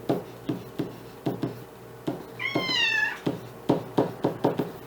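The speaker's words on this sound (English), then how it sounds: "And Luna the math cat has decided to show up, put her comments in." Luna, a pet cat, lets out one clear, drawn-out meow midway, close by, amid sharp tapping and knocking clicks from hands and pen on a desk during a math lesson.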